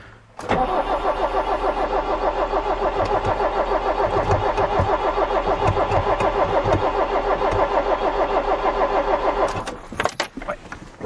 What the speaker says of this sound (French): On va déjà essayer de démarrer le camion.